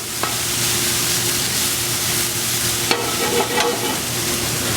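Mushrooms sauté in oil in a pan, giving a constant close sizzle broken by a few sharp stirring clacks, no one speaking.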